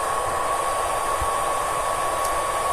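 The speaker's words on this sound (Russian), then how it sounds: "Обороты вентилятора включились на максимум. Но хочу сказать, что хоть и громко, но все равно мягенький такой шум." The cooling fan of a ToolkitRC charger runs at maximum speed, a steady, even, fairly loud whoosh with a faint constant whine, unbroken and with no talk over it.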